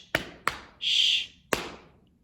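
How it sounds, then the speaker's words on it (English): Hands clap out a simple rhythm, three crisp close claps with a short whispered shushing sound standing in for a rest between the second and third. "you are going to clap the rhythm that you make"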